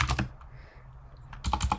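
Bursts of fast keystrokes on a computer keyboard while writing Go code, loud and close: one short flurry, a pause of quiet hum, then another rapid flurry of clicking.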